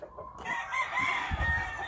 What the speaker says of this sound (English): That's a blue face hen.